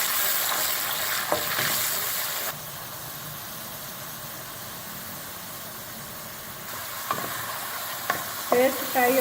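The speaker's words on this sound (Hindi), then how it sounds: "पेस्ट फ्राई हो चुका है।" Tomato and onion paste sizzles steadily in hot cooking oil while Lahori chole is being made, a continuous close frying hiss with a few brief clinks and stirring knocks near the end.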